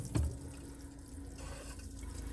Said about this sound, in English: wait for white water, clear water to come out